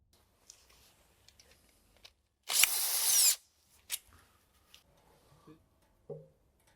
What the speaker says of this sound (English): we now unscrew the oil pan from the transmission